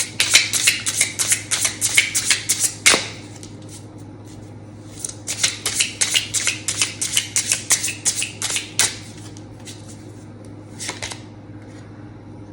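A mini tarot deck shuffled by hand in two long bursts of rapid, crisp riffling card flicks separated by a pause, close and fairly loud, with a few extra flicks near the end and no talk.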